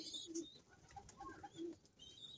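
Pigeon cooing, a bird with one drooping wing, sounding as soft low coos in short phrases at close range, with faint higher chirps from other birds around it and no talk.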